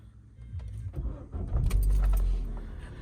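A 2012 Vauxhall Meriva 1.4 16v petrol engine starts up after a jangle of keys, the starter catching quickly and settling into a low, smooth idle close by.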